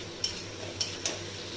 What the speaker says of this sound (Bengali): চাল কুমড়োটা আমি আগের থেকে লবণ মিশিয়ে রেখেছিলাম, তাই এখন হলুদ দিয়ে আমি নেড়ে চেড়ে নেব।